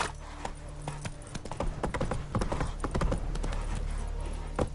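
In The Witcher 3 video game, the horse Roach gallops with rapid, rhythmic clip-clop hoofbeats that grow denser and louder as the run picks up pace.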